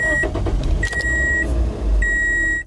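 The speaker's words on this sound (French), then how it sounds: "on la tient jusqu'à ce qu'on entende le bruit de démarrage du moteur" A car engine started with the ignition key turned to start, the starter cranking and the engine catching, with short electronic warning beeps heard at intervals over the running motor.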